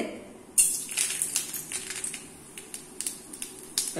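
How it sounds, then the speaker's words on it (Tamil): Mustard seeds and urad dal splutter in hot oil while being tempered for a spicy tomato chutney, giving irregular sharp pops and crackles over a soft sizzle, close by. "கடுகு நல்லா பொரிய ஆரம்பிச்சிருச்சு"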